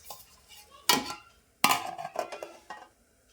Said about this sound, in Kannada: ಈಗ ಮ್ಯಾಲೆ ಮುಚ್ಚಿ ಕುದಿಲಕ್ಕೆ ಬಿಡೋಣ್ರಿ